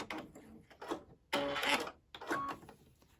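A sewing machine stitches rows of a quilt block in short bursts with brief pauses between runs, close and fairly quiet, followed by the snip of thread being cut.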